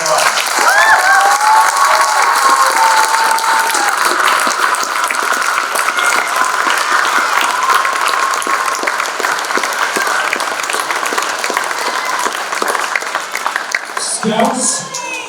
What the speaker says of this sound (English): Please join me one more time in congratulating these scouts with a round of applause.